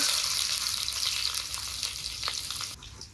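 Chopped onion fries in mustard oil in a wok, a bright, steady hiss close by that softens slightly near the end, with a faint stir or two.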